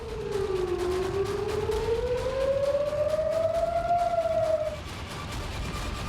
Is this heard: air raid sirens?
yes